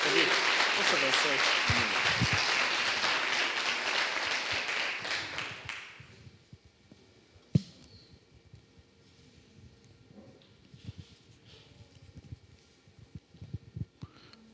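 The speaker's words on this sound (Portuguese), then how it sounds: "Aplauda o Senhor em nome de Jesus." A church congregation claps loudly together for about six seconds, then the applause stops abruptly, leaving a quiet room with scattered taps and faint murmurs.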